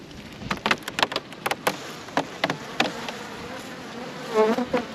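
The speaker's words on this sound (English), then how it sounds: "I know there's bees in here because we just vaped them" A dense honeybee buzz inside a hive fills the clip, with sharp clicks and taps scattered across it and a louder swell of humming near the end.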